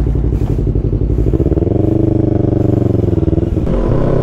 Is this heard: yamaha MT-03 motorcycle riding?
yes